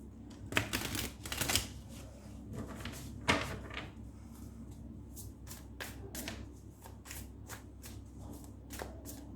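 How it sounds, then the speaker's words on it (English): Tarot cards shuffled and drawn by hand, with repeated crisp riffling and slapping bursts, then a series of short, evenly spaced snaps as cards are laid out, close and fairly quiet. "I'll be taking out 7 cards and I'll explain as we move along."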